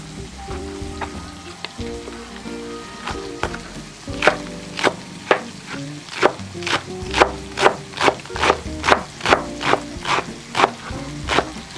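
A knife chopping Napa cabbage on a cutting board, fast and close: sharp rhythmic thwacks, slow and irregular at first, then a steady quick run of evenly spaced cuts, over faint kitchen sizzling.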